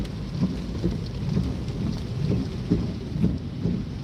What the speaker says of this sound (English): it's just raining a little bit.